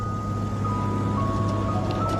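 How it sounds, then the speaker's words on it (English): An ice cream truck in a movie scene plays a tinkly tonal jingle under a steady engine rumble, moderately loud and sustained. "there's a scene with an ice cream truck hunting a child"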